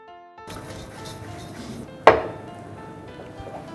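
A utensil works onions through rice in a pan for risotto Milanese, soft scraping and rustling broken by one sharp, loud metallic knock against the pan, with quiet kitchen noise around it.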